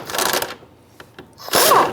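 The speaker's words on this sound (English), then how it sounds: "we're going to use a deep 13 socket on our impact gun, and we want to go ahead, loosen," Impact gun with a deep 13mm socket loosening a nut on a 1999-2004 Jeep Grand Cherokee fuel tank strap, two short loud hammering bursts separated by a brief pause with faint clicks.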